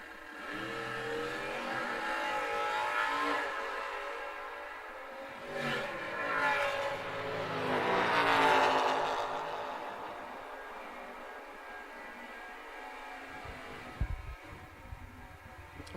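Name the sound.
drag race cars launching, including an Oldsmobile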